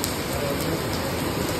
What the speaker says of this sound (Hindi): बारिश बहुत अच्छा गाइस